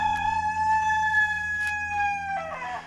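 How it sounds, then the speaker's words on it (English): A rooster crows nearby, a long loud drawn-out call that breaks at the end, with no talking. "the chickens are fired up this morning"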